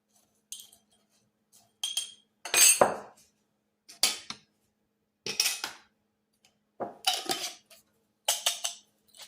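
A spoon clinks and scrapes inside a container while mixing an orange peel coffee substitute, in short separate bursts of metallic chinks with silent gaps between them.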